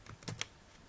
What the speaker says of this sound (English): In the text box, type the message that you want to write to the specified file.